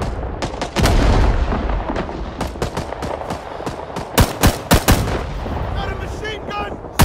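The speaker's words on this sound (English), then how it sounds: "Enemy fire!" Intense gunfire in the Vietnam war video game Rising Storm 2: Vietnam: loud rifle and machine-gun shots crack in rapid bursts, with heavier booms and sharp single reports throughout.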